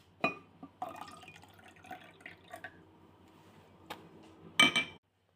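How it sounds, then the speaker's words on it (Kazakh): Clean water poured into a cooking pot, heard as scattered drips, small splashes and light clinks against the vessel, close by with no talking. "бірақ таза су құямыз."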